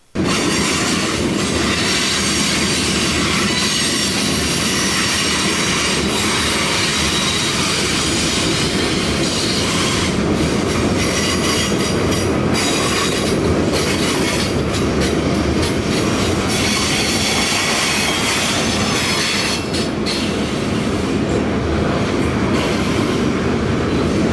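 A loud freight train, the K82 Taylor to Binghamton, New York local, rumbles past continuously, with rhythmic wheel clatter and occasional metallic squeals, no voices.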